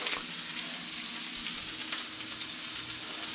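Sausage browns in a frying pan with a dense, steady sizzle and crackle, close and continuous with no talking.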